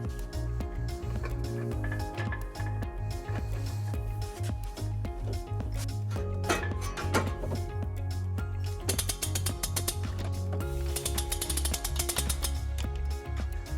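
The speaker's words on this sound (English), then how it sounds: "We will be using our U-Haul exclusive hitch jack." A U-Haul hitch jack lifts a heavy trailer hitch under a 2015 Toyota Sienna, producing steady, close ratcheting clicks and metallic gear rattles that grow busier and louder toward the end.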